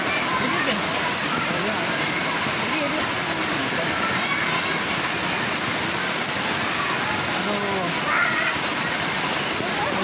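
Heavy rain pours down in Cirebon Timur, a dense continuous wash of water loud throughout, with people talking faintly underneath.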